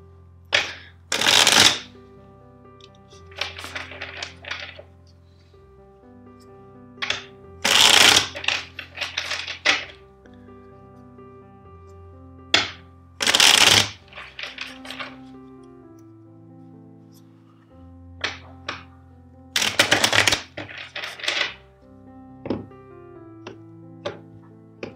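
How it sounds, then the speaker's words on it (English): A deck of tarot cards riffle-shuffled four times in sharp, loud bursts separated by quiet pauses, with soft background music underneath. "let's shuffle the deck four times for you"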